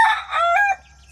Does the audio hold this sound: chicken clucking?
yes